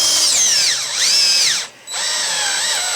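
Step drill bit boring a hole in sheet metal, a loud high whine that swoops down and back up as the bit bites through each step, cutting out briefly before resuming.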